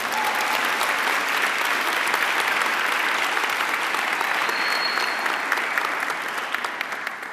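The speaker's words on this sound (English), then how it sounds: "Let's give that a big round of applause." An audience at a school kickoff event applauds for the University of Texas Rio Grande Valley. Sustained, even clapping fills the room for several seconds and fades slightly at the end.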